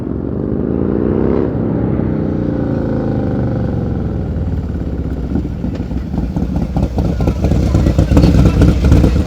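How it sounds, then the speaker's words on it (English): A motorcycle rolls along at slow speed during a riding skills practice session, its engine idling and puttering with a rhythmic, nearby thrum that grows louder and more clattery toward the end, voices talking over it. "Oh, that motorcycle sounds nice."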